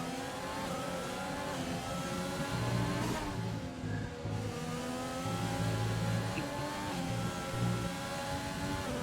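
A McLaren race car engine heard onboard in a racing game at the Mexican Grand Prix screams continuously at high revs, with brief dips and shifts as it lifts and accelerates again through the lap.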